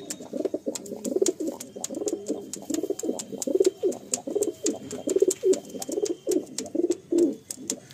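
Kalasabuj pigeons in a loft in Garia, Kolkata coo in a steady run of repeated, rhythmic throaty calls, close and fairly soft, with faint sharp clicks between them.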